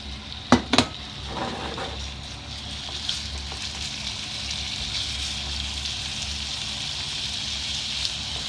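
Chicken pieces frying in salad oil in a pan at home, a steady soft sizzle running throughout after a couple of sharp utensil knocks at the start.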